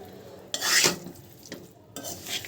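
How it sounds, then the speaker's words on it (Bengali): Marinated beef frying over low heat in a pan, a soft sizzle with stirring and scraping bursts, louder around the middle and again near the end, no talking. "এখন আমি চুলায় হালকা হালকা আঁচ দিয়ে ভাজতে থাকবো।"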